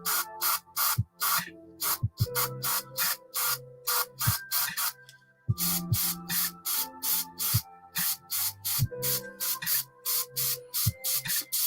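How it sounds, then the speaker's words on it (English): An airbrush sprays paint in rapid repeated short hissing bursts, close and fairly quiet, with brief pauses between the runs of bursts. "Might have been helpful if I clean my airbrush beforehand, eh?"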